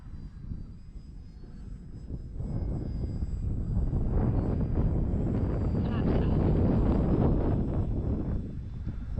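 A Dancing Wings Fi156 Storch RC model airplane with landing flaps set, flying on its maiden flight, a steady buzzing motor drone with wind noise, rising slightly and staying moderately near.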